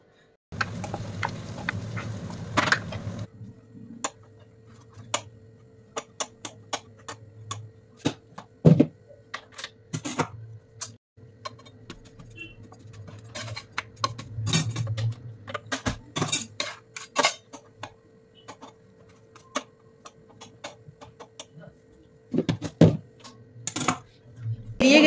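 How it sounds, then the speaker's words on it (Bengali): Beans, potatoes and other vegetables are chopped with a knife in a home kitchen: sparse, irregular sharp taps and clicks against a board, with quiet gaps between cuts. "তো চলো তাড়াতাড়ি করে সবজিগুলো কেটে বসিয়ে দিই।"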